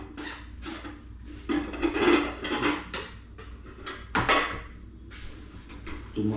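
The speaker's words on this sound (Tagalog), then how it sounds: "Mga kalansing yung mga kaldero natin." Cooking pots and pans clatter and scrape at home, sounding in several close, irregular bursts of metallic knocking and rubbing with quieter gaps between them.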